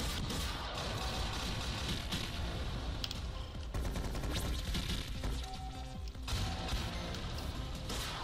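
A missile attack in the Megabyte Punch video game bursts out as dense, rapid explosive crashes and gunfire-like blasts, loud and continuous with brief lulls, and no talking.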